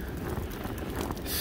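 Wind buffets the microphone outdoors on a freezing winter day at about -3 degrees, a loud steady broadband roar with gusty swells and no voices.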